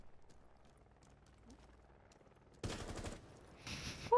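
Gunfire in a competitive multiplayer shooter match, a dense burst of rapid automatic shots starting partway through after a quieter stretch, loud and close, with a second volley near the end.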